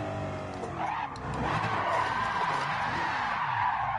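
Tires of a Chevy Nova race car skidding in a racing video game, a sustained squeal over steady engine drone that grows slightly louder midway.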